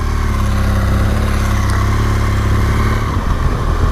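BMW R1200 GS motorcycles on the road make a loud, constant engine drone that stays close and steady throughout, with no talking.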